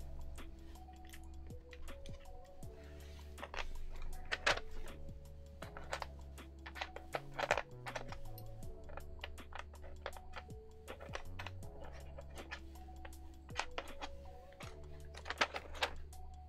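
Typing on a custom mechanical keyboard fitted with clicky Box White switches: a steady run of close, crisp keystroke clicks with uneven rhythm, set over a constant low background hum.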